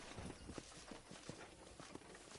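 Horse hooves clip-clopping in the Red Dead video game, a steady walking rhythm of muffled thuds under a dense, noisy game soundscape, faint and somewhat distant.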